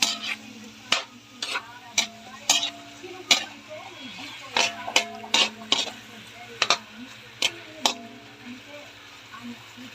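Chicken tinola being stirred in a cooking pot, a spoon scraping and clinking against the metal in irregular bursts over a soft sizzle, with a voice talking intermittently.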